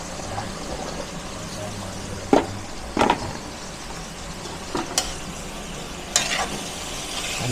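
String beans and pork being stirred in a frying pan, with a low sizzle throughout and several sharp scraping strokes of the spatula, close and fairly quiet.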